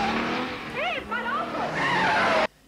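An Alfa Romeo GTV6 skids in a chase from the 1983 Bond film Octopussy, tires squealing in wavering bursts over a loud engine drone before the sound cuts off abruptly.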